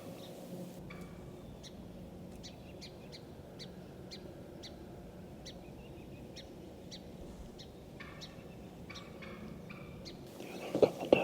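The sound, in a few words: wild turkeys gobbling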